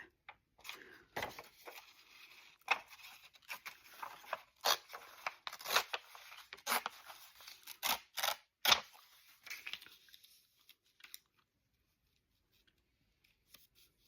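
Creased old book page torn by hand, a series of sharp papery rips and crackles in quick irregular bursts, close and fairly faint, trailing off into near silence.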